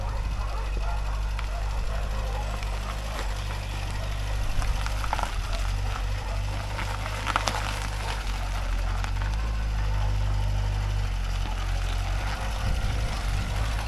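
A Ford Escort Mk4 with a carburettor problem idles roughly, giving a steady, close low rumble that runs throughout with faint background noise above it.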